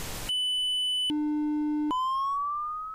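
Electronic beep tones in an analysed radio recording: a burst of static, then a steady high beep, a lower buzzy tone and a rising whistle in quick succession, loud and clean.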